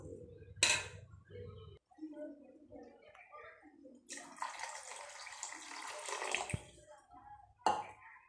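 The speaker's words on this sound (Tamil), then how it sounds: "இப்போ கொஞ்சம் போல் தண்ணி சேர்த்துக்கலாம்." Water poured into sambar cooking with drumsticks, a splashing gush in the middle of the clip, with someone speaking before and after it.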